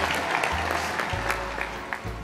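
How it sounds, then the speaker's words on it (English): Audience at an insurance district awards event applauds, dense clapping running steadily at a moderate level over a low background hum. "go ahead and applause"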